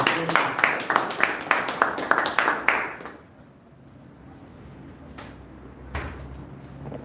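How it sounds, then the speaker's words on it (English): A round of applause for a presenter at a training course session: about three seconds of brisk, evenly paced clapping, then near silence with a single soft thump. "Let's give a round of applause."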